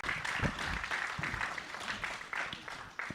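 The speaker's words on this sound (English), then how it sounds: "Round of applause, please, for Lora Logic." A crowd at the Rebellion punk festival applauds as an interview guest is introduced on stage, a steady roar of clapping with a few distinct sharp claps and some low thumps, fading slightly near the end.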